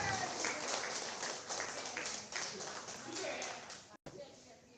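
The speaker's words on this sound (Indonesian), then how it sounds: "kita sambut dengan tepuk tangan Ketua ILMI Kabupaten Bogor yang terhormat Al" An audience at an inauguration ceremony in Bogor, Indonesia applauds steadily and faintly at a distance for several seconds, with a brief break near the end.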